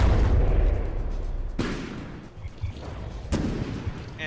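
Heavy tank gunfire in the From The Depths video game lands as impacts, with a loud boom at the start and sharp blasts about every couple of seconds over a rumbling battle background.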